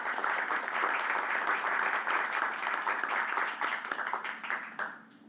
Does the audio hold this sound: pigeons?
no